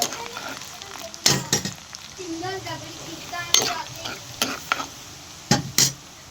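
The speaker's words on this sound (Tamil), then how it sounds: "பூண்டு வந்து கொஞ்சம் நல்லா வெந்து வரட்டும் கொஞ்சம் நல்லா வதக்கி விடுங்க" Garlic sautés in a pan after mustard seeds and curry leaves for a garlic curry, with a soft sizzle under sharp, repeated clinks and scrapes of a spoon stirring against the pan.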